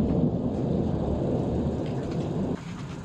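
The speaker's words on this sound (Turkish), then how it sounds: "Elazığ'da ise gök gürültülü sağanak etkiliydi." Thunderstorm in Elazığ, with a deep rolling rumble of thunder over rain that holds for a few seconds and then eases slightly, no voices.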